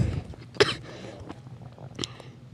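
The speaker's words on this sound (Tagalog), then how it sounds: "Sorry, inuubo kasi ako." A person coughs sharply twice, about a second and a half apart, close to the microphone over faint background sound during Minecraft Hive Bed Wars play.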